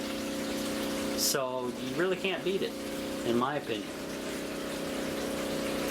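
Small electric water pump running steadily on free power, pumping collected rainwater from an off-grid rain collection tank, a constant hum throughout with someone talking over it in two short bursts.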